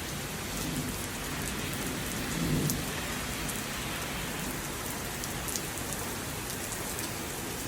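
Heavy rain pouring steadily during a March thunderstorm in Wilmington, a dense continuous hiss of falling water with a brief low rumble of thunder partway through.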